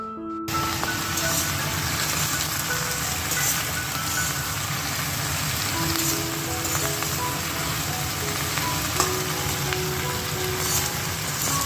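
Chicken frying in a pan, a dense and steady sizzle like rain with a continuous crackling hiss that stays close and even throughout, and no one talking.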